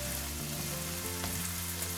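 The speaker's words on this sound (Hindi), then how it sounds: "इसको give it a good stir." Kimchi fried rice sizzles steadily in a hot pan with kimchi juice, a continuous close frying hiss with faint scraping of stirring, no voices.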